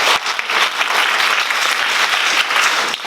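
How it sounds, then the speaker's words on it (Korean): An audience claps steadily to welcome a speaker at a community care presentation in Jeonju, a dense run of hand claps with a few sharper close claps standing out. "큰 박수로 모시겠습니다."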